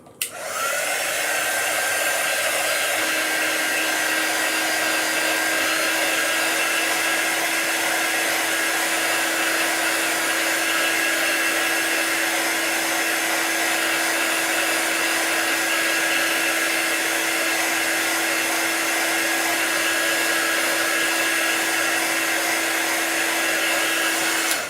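A hair dryer blows steadily and evenly for a long stretch while drying a chalk transfer project. It starts abruptly and stays close, with no voices.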